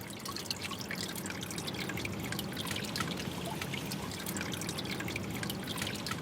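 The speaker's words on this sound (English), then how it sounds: "it's this hole in the brick wall drains off to stormwater. You can hear it." Water trickling from a hole in a brick wall into a stormwater drain, a steady soft dribble with dense drips, continuous and fairly quiet, with no voices.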